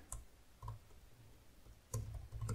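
A few isolated clicks from a computer keyboard's keys, including the Enter key, each crisp and close in a quiet room, spaced out with a firmer press near the end.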